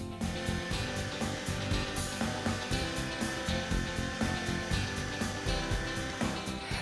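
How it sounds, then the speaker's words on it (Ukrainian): An electric meat grinder runs with a loud steady motor whir while grinding onion, with a continuous buzzing drone and a faint rhythmic pulsing close by. "просто сльози щастя виступають від того, як легко електром'ясорубка впоралася із цибулею"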